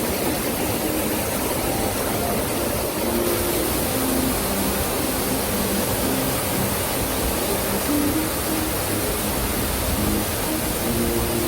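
A cool waterfall on a flower-garden walk gives a steady, broadband rushing roar that holds even and unbroken throughout, with no voices over it.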